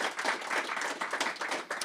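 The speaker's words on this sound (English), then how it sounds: "let's have one more round of applause for Liam Ross" Audience applause for Liam Ross fills the room, a dense, steady wash of many hands clapping that holds throughout with slight swells, close and loud and free of speech.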